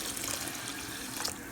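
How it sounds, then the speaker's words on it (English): Water pours in a steady, close, even rush into a rice cooker while prawn pulao is being made. The hiss runs unbroken throughout. "So let me add the water."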